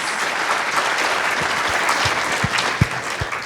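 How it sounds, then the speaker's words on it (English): An audience at a Modernism Week panel applauds after presentations, a steady wash of clapping from a room full of people, with a few louder individual claps standing out near the end. "We have one more round of applause"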